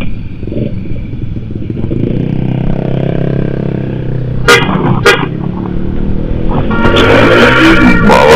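Horns honking on a village road near an overloaded truck carrying bamboo, sharp toots standing out over a steady engine rumble, with a burst of repeated honks toward the end.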